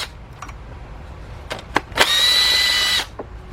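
A power tool loosening a 10 millimeter water pump bolt on a 2005 Cadillac CTS 3.6, a few short clicks followed by one steady high whir lasting about a second, close by.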